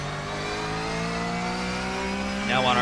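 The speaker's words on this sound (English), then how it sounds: "so this engine does like to rev" Porsche 911 GT3 Cup race car in iRacing, its high-revving engine droning steadily with rising harmonic tones, growing louder near the end as revs climb.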